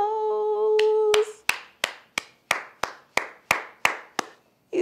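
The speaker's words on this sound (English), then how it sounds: "Clap for yourselves." About a dozen hand claps follow a sustained musical tone, landing in a steady, evenly spaced rhythm close by, as children clap for themselves after a sing-along song.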